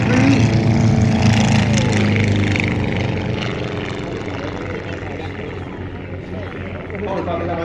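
A light propeller-driven aerobatic display aircraft flying low through limbo poles at an airshow at East Kirkby, its engine drone loud at first and then easing back, under a commentator speaking over the public address.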